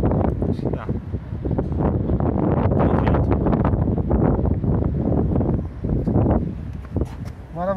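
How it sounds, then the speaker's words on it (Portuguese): Strong outdoor wind buffets the microphone during a Fiat Toro chrome door handle installation, a loud continuous rumbling roar that swells and dips, with a person speaking underneath. "Tá ventando muito aqui, pessoal. Não sei se tá saindo um áudio bom aí."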